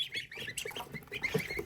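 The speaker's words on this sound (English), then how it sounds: "Ducks and geese together." Ducks quack and geese honk together in a short, busy burst of overlapping calls, fairly close.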